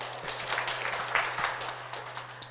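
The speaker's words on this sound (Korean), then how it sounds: "큰 박수 부탁드립니다." Audience applause at a graduate school admissions information session, fairly faint scattered clapping from a seated crowd in a hall, steady for a few seconds.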